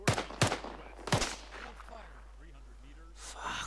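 Arma 3 gunfire: three sharp, loud rifle shots in quick succession at the start, followed by quieter background chatter and a soft fourth report near the end.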